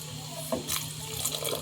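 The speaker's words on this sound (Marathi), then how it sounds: "पाणी घालून" Water is poured into a cooking pot for a soybean pulao, a short splashing, gurgling stream over a steady background hum, close and moderately loud.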